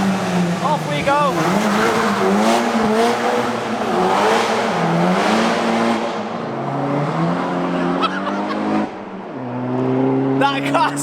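Modified Cupra K1 engine revving hard on a rain-soaked road, loud rising and falling rasp with tyre hiss from the wet surface, a shift dip near the end, and voices under it.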